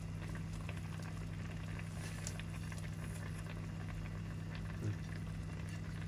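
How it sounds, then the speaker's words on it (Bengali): Fish curry with river fish, beans and potatoes bubbles at a steady rolling boil in a pot: a continuous dense patter of bursting bubbles that stays even and close throughout, with no talk over it. "এখন এই যে বলকাইতেছে"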